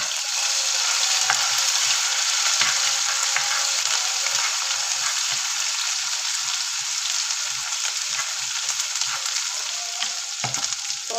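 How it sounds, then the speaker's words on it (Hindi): Ginger garlic paste fries in oil over a very low flame, a close, steady sizzle with a continuous crackle and occasional stirring scrapes. "हम इसमें अदरक लहसुन का पेस्ट डालेंगे और फ्लेम को बिल्कुल स्लो कर देंगे।"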